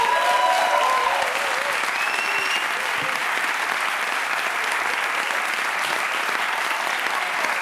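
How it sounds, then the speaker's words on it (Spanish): A studio audience at a Spanish late-night comedy show bursts into loud, sustained applause, continuous and dense throughout, with a few faint whoops near the start. "Un aplauso para Keke."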